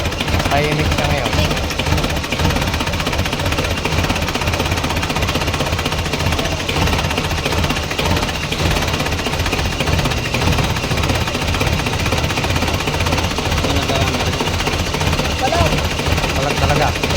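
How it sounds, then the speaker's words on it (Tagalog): An Isuzu 4BC2 diesel engine with a knocking problem runs steadily at close range, a dense, continuous clatter and drone that stays even throughout, with people talking over it. "Tumahimik yung makina, no?"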